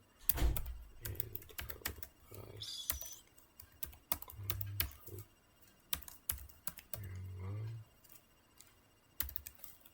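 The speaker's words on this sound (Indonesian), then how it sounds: "terus kita ketikkan filenya itu" Computer keyboard typed in short uneven bursts of close clicks and key taps, with brief pauses and a few low thumps between them.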